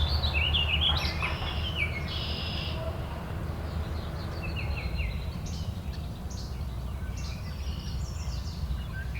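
Warbling vireo song, rapid warbled phrases mixed with other bird calls, moderately distant over a steady low background rumble.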